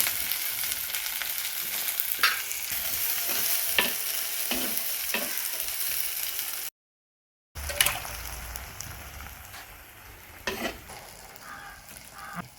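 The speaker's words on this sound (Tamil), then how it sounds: "பூண்டையும் வெங்காயத்தையும் போட போகிறேன் எண்ணெயில்" Garlic and onion fry in hot oil with a steady sizzle, broken by scrapes and knocks of a stirring spoon, close and continuous, cut off by a brief gap before frying resumes.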